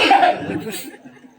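A brief burst of coughing from a performer during a Balinese prembon comedy dance-drama, loud at first and then trailing off under a murmur of other voices.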